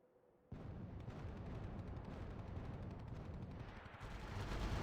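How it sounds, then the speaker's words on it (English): Artillery barrages in the real-time strategy game RUSE, heard as a sustained low rumbling roar of distant shelling that starts abruptly and swells louder toward the end, no speech. "Oh, that's a lot of artillery damage."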